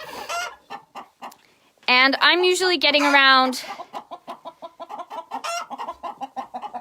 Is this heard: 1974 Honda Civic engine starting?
no